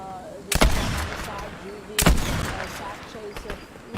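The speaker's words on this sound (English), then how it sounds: "Somebody's over here shooting." Two sharp, loud gunshots crack about a second and a half apart in Fortnite, each ringing briefly, with softer game sounds and murmuring between them.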